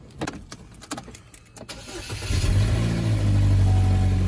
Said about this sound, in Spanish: Cierras el cofre y prendes tu carro.